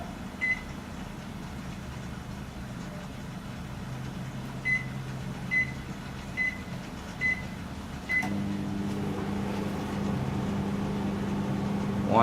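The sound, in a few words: microwave oven running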